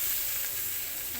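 Sliced bitter gourd (karela) fries slowly on low heat in a pan, giving off a soft, even sizzle and hiss that stays steady and close with no voices.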